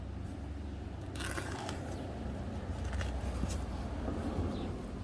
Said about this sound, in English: I'm just going to trim this weed mat.